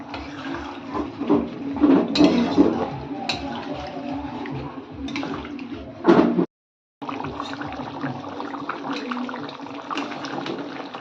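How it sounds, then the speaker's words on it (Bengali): Water is poured into a pot of meat, giving a steady splashing, gurgling flow that runs for several seconds, breaks off briefly, then continues, with faint background voices. "পরিমাণ মতো জল দিয়ে এবার মাংসটাকে আমরা"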